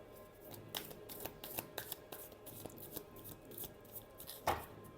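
Tarot cards being shuffled by hand in quick, crisp riffles and flicks, close and fairly quiet, with no talking during the shuffle.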